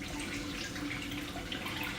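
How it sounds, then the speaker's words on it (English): Water being turned on slowly into the supply line of a Crown electric bidet seat gives a faint, steady trickling hiss with light dripping, heard up close in a quiet bathroom without speech. "I'm opening the water slowly, and it doesn't seem like there's any leaks so far"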